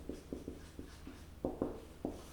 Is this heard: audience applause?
no